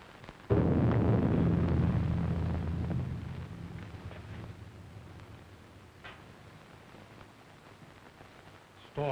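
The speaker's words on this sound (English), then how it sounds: "Storm is increasing." Thunder in a 1932 pre-Code horror film: a sudden loud rumbling crash that rolls and fades over several seconds, with storm noise lingering and another burst starting at the very end.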